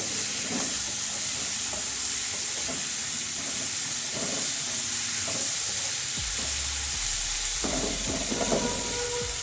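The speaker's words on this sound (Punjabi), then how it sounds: "ਤੇ ਹੁਣ ਅਸੀਂ ਇਹਦੇ ਵਿੱਚ ਫਲੀਆਂ ਨੂੰ ਪਾ ਦਵਾਂਗੇ 5 ਕਿ ਮਿੰਟ ਆਪਾਂ ਤੜਕੇ ਦੇ ਵਿੱਚ ਇਸ ਤਰ੍ਹਾਂ ਪਕਾਵਾਂਗੇ" Cowpea pods fry in a hot spice tempering, a loud, continuous sizzle and hiss with repeated scraping stirs of the pan throughout.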